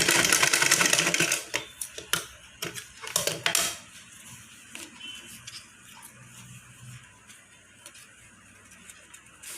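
A sewing machine stitches a golden border onto the round neck of a blouse, starting with a loud close burst of rapid mechanical rattling that breaks into shorter runs and then settles into quiet, with no talking.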